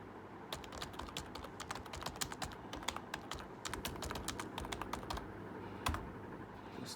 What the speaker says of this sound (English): let me just type in.